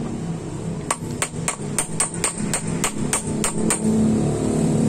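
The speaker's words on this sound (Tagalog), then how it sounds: "Medyo matigas lang sa martilyo." A hammer taps clutch housing parts into place during a Yamaha STX 125 motorcycle engine overhaul, about a dozen sharp, evenly spaced metallic blows close by, then settling into a workshop hum.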